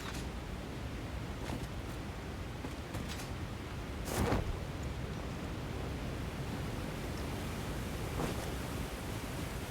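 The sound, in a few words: waterfall rushing water in the video game Satisfactory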